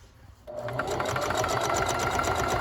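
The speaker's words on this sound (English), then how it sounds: "continue sewing while they're playing with their video games" A home sewing machine stitches a handmade basket, starting after a brief quiet moment and then running as a steady, fast, close mechanical whir with a rhythmic needle chatter.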